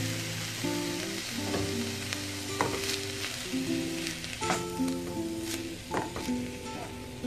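Tomato fries with a constant sizzle in a pan for a chicken chipotle dish, and a spoon stirs it now and then over the crackle. Nobody speaks.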